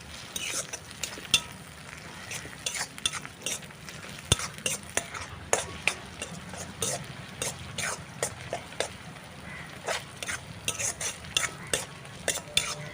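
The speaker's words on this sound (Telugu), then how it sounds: "అల్లాన్ని పచ్చి వాసన పోయే వరకు వేయించుకోవాలి" Ginger-garlic paste frying with onions in a pan sizzles faintly beneath a steady rhythm of sharp spatula scrapes and taps, repeating roughly every half second for several seconds.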